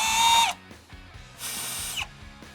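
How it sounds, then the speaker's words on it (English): A power drill boring holes for a traction bar bracket on a truck, two short close whirring bursts separated by a brief pause, with faint knocks between them. "grab our drill bit and mark our holes"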